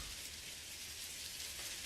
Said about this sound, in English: the reason I play music of the rain in the background